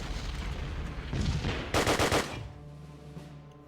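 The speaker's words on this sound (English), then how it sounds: "This is artillery." Artillery fire in the wartime strategy game Decisive Campaigns: Ardennes Offensive, heard as a loud run of rapid gunfire bursts that peaks in the middle, then a low rumbling tail as it fades.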